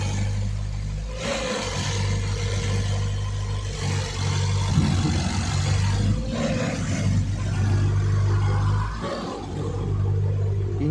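A Ford EcoSport engine in limp mode with throttle sensor faults runs at raised RPM, a loud, close, rough drone that swells and dips in several surges.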